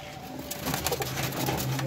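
Pigeons at a Lahore breeder's loft give soft, rolling coos close by over a steady low background hum, with faint rustling.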